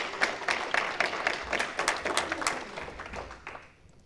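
Moderate applause from an audience at a school board meeting, a cluster of clapping hands building steadily and then tapering off to quiet near the end.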